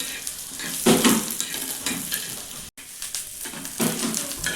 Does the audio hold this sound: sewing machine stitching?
no